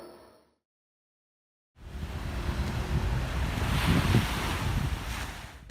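Surf washes onto a beach in Pattaya, Thailand, a steady broadband rush of breaking waves with wind noise on the microphone, starting after a brief silent gap and swelling slightly toward the end.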